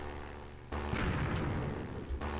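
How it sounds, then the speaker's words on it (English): A bomb dropped from a plane in Minecraft explodes with a sudden loud boom, followed by a rumbling, crackling blast that runs for over a second before cutting off. "So, dropping bomb now."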